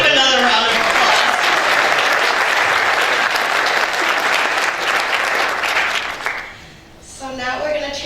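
A large audience at a Boston sustainable communities consortium event gives Amy a loud, sustained round of applause that fades out near the end, leaving a speaker's voice talking over the quiet.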